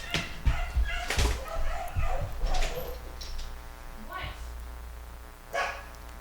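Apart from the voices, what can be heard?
dogs barking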